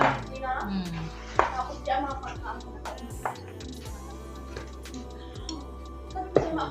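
Carrots and sliced string beans for tortang sitaw stirred together in a bowl, with soft scraping and scattered utensil ticks and clinks, a few sharper knocks standing out over a low steady background hum.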